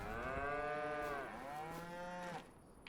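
Several cows mooing inside a cow barn in the Farming Simulator 25 video game, long overlapping drawn-out lows that swell and fade one after another, fairly close and loud with no talking.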